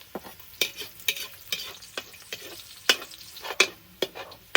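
Garlic fries in a pan after onion, a steady soft sizzle broken by regular scraping strokes of a spoon stirring it, close and fairly quiet.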